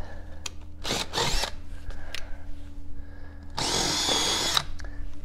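Power drill boring a half-inch hole into a 2006 Malibu Wakesetter boat, with short whirring bursts early and a longer, louder grinding run later over a steady background hum.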